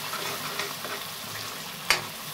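Spices roasting in oil for dhaba-style matar paneer give a soft continuous sizzle, with a few light stirring scrapes and one sharper clink near the end, heard up close without any voices.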